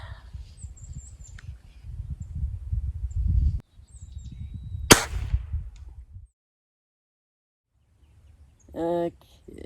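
A pellet gun fires a single sharp crack partway through, amid low outdoor rumble and wind, followed by quiet and a brief tonal sound.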